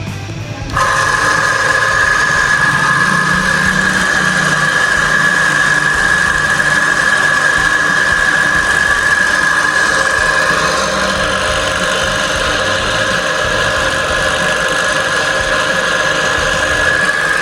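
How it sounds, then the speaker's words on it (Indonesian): A gear pump runs steadily during a vibration check, giving a continuous mechanical hum with a high whining tone that holds throughout, loud and close, with no talking. "di sini saya akan melakukan pengecekan getaran pada pompa roda gigi"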